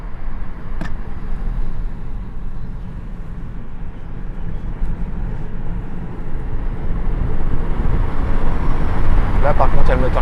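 A Toyota Corolla 180H hybrid's petrol engine kicks in under firm acceleration, a low broadband drone that builds gradually over road and rolling noise inside the car.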